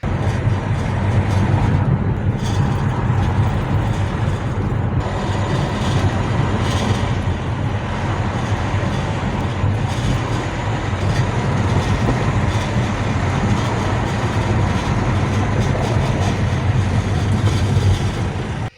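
An Alfa Romeo on the road with a suspected noise from the front brake disc heat guard, heard as a continuous loud rumbling road and driving roar with faint rattly ticks running throughout, no talking.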